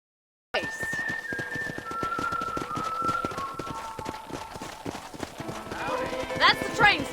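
Steady clip-clop of horse hooves in a video game, running beneath continuous talking, with a brief whistle-like flourish near the end.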